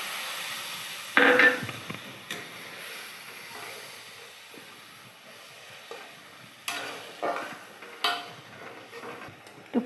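A bowl of water hits a hot pan of spiced masala for a vegetarian doi potol curry, giving a sharp hiss. Quieter sizzling and intermittent spatula scrapes follow.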